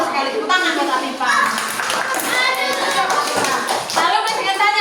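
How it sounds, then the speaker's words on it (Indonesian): A classroom of children claps for a classmate, a dense patter of small hands close by, mixed with children's voices calling out. "Tepuk tangan buat Afifa"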